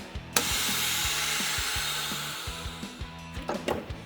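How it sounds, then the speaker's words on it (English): A vacuum sealer draws the air out of a bag holding liquid for a bone-in beef shank, making a steady hissing motor whir with rhythmic pulsing underneath, close and moderately loud. "this guy is going to allow us to suck all the air out of the bag and keep the liquid in the bag"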